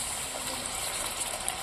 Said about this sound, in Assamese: বিলাহী সিজিলে এতিয়া দিব লাগিব অকণমান পানী